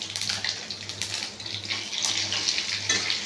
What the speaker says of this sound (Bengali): এরপর আমি ফোড়নে দেবো দুটো শুকনো লঙ্কা, তেজপাতা, গোটা জিরে, পাঁচফোড়ন।